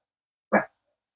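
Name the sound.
dog barking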